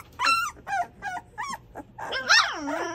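A three-week-old puppy in a litter whimpers and yips up close, five short whiny cries in a row followed by a longer, rising whine.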